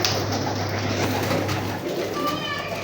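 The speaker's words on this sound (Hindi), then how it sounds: "ये फुल व्यू है भाट साहब के कबूतरों का" Pigeons coo softly in a steady outdoor murmur, with faint children's voices and general background noise throughout.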